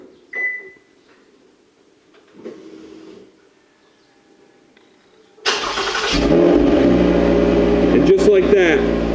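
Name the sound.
car engine starting by remote start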